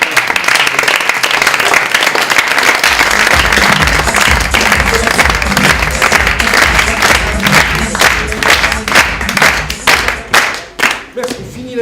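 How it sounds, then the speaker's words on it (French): Loud, sustained applause and clapping from an improv show audience, filling the whole stretch before thinning into scattered claps near the end, with some voices mixed in. "on peut applaudir les Crash Punk"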